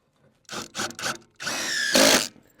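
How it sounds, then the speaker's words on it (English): Screws driven into a door hinge with a power driver, three short buzzing bursts followed by a longer whirring run that rises in pitch, close and loud, with no talking. "So I'm angling my screws this way to suck it in."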